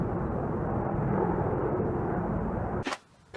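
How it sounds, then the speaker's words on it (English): Four Army helicopters fly past in formation as a broad, steady roar with a faint rhythmic chop. The roar holds for a few seconds, then cuts out abruptly near the end. "4 Army helicopters flying in formation there."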